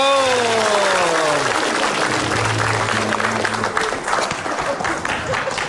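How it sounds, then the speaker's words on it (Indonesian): Applause from a studio audience on the Indonesian comedy show ILK fills the clip, steady and fairly loud, with a held tone and voices fading beneath it at the start. "bisa tepuk tangan dari teman-teman"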